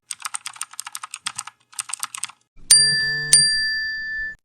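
Rapid keyboard typing clatters briefly, then two bright bell dings ring out in quick succession, the second one lingering before cutting off.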